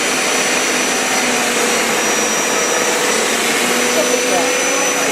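A Hoover or Bissell pet carpet cleaner runs as a loud, steady broadband roar with a constant high whine, continuous and close throughout with no break.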